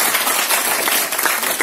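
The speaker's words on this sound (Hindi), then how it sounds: "एक बार जोरदार ताली" An audience at a motivational lecture at JIT Jaipur gives dense, continuous applause, with many hands clapping in a steady crackling burst and no talking over it.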